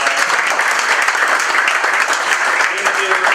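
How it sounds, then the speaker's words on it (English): Audience applause at a startup meetup, a dense, steady wash of clapping from a crowd lasting throughout, loud and close. "let's give him another round of applause."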